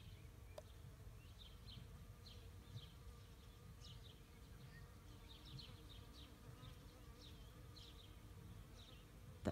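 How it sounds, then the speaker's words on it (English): Bees swarming in oak trees on an off-grid Portuguese homestead, a soft steady hum with many individual buzzing passes drifting in and out at moderate distance, quiet and unaccompanied by talk. "The oak trees are alive with bees at the moment."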